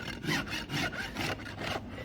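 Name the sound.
trimming a horse's hoof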